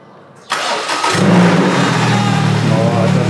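A car engine cranks and catches, then settles into a loud, throaty, rising rev close by. A voice can be heard faintly beneath it.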